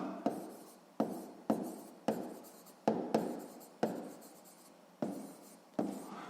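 A pen writes measurements for a sixth-grade math exercise on paper, a close, quiet run of scratchy strokes that repeat at roughly regular intervals, each starting sharply and fading, with no voice.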